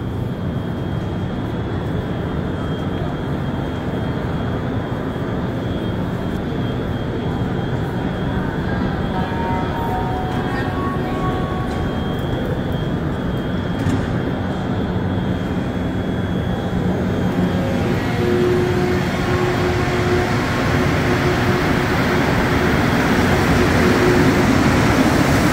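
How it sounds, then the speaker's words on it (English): A Montreal Metro train pulls out of an underground station, its rubber-tired rumble and motor whine building steadily and growing louder and broader toward the end, close by and with no one speaking. "First we'll get a nice view of this train departing."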